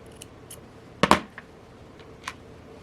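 Scissors snip through the nylon thread of a handmade bracelet: a sharp double cut near the middle, close and crisp, with faint small clicks around it and no talking.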